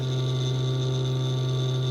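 A small cooling fan on an Auxbeam LED car headlight whirs with a steady, high electric whine and a low hum underneath, constant and close.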